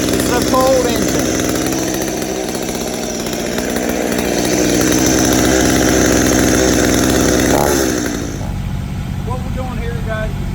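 A cold chainsaw engine idles steadily on half choke at tree-cutting work, a loud buzzing drone close by that rises slightly mid-way, then drops as someone talks over the running engine.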